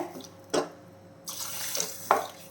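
Water is poured in short splashing bursts into a cooking pot for a vegetable rice dish, three separate pours with quieter gaps between them, close and clear.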